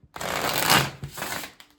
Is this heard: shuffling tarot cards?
yes